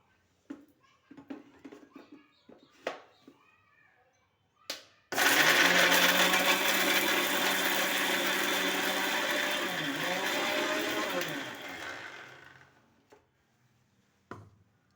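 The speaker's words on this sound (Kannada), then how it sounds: "ಮಿಕ್ಸರ್ ಮಾಡ್ಕೋಬೇಕು" An electric mixer grinder grinds a red chilli spice paste with a little water, a loud steady whirring roar running for about seven seconds between brief kitchen clatters, then cutting off.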